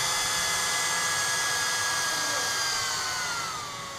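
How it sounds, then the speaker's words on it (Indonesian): Steady whooshing blower fan of a portable hot air rework station with a high whine, continuous and close, easing slightly lower and softer near the end as the speed is turned down. "kalian dengar bunyi hembusan anginnya, dinamonya"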